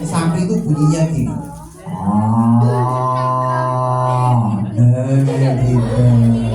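A person imitates a cow with a long, loud, drawn-out vocal moo in front of a group of children, with speech before and after the imitation.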